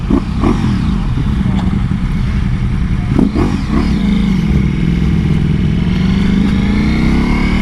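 A Ducati Pikes Peak and a BMW S1000RR motorcycle run close by with a loud, steady engine drone and a few brief throttle blips over a continuous rumble.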